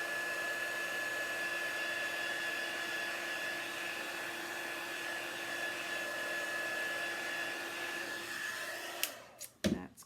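A hair dryer blows steadily and close, drying a heat transfer on a sign, a constant whooshing roar with a faint tonal whine that cuts off near the end with a few clunks.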